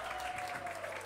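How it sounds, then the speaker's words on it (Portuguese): A short burst of clapping from the audience at a dance school showcase, moderately distant and quite even, with the hands of many people blending into a continuous patter. "Muito obrigada, uma salva de palmas,"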